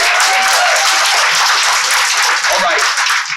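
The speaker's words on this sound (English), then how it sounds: "y'all don't even need me to tell y'all to clap for that" An audience at a youth poetry slam claps for a performer, loud, dense applause filling the room throughout, with cheering voices mixed in.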